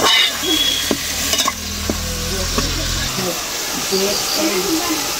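A spoon scrapes and stirs prawn curry seasoned with salt and chilli powder in a sizzling pan, close and steady, while a person talks over it.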